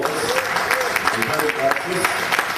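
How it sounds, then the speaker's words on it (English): Warm applause from an audience for a performer at a live show, with clapping spread throughout and some voices and a few faint musical tones mixed in. "Give him a nice round of applause"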